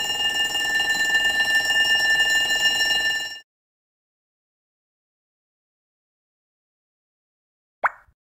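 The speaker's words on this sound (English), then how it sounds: "Fire alarm." A preschool shape puzzle game on iPhone plays a steady electronic fire alarm ring for about three seconds, then cuts off to silence before a single short click.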